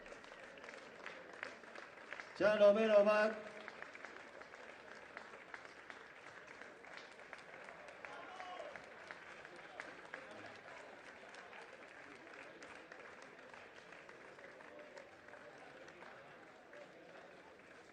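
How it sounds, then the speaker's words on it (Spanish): A crowd at a cycling race award ceremony in Estella-Lizarra gives a short burst of applause, then fades to faint, scattered clapping and murmur under an announcer's voice. "Fuerte el aplauso para Ander."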